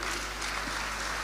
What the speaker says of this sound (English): Please put your hands together for the Labour Party legal team